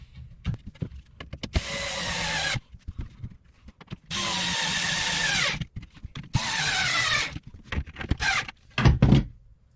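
Power screwdriver driving screws into a wooden bookcase rail on a boat: several loud whirring bursts of a few seconds each, separated by short clicks and handling knocks.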